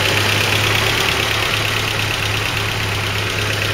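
A Land Rover Series 3 engine idles steadily after a distributor rebuild, a continuous close rumble with a low hum and no voices, holding an even level throughout.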